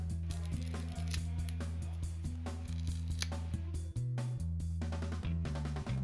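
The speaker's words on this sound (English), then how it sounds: "grab one of the grommet pieces and cut a straight line between any of the two holes" Scissors snipping through a rubber grommet piece from a bicycle engine kit, a series of sharp close cuts over a steady background music bed.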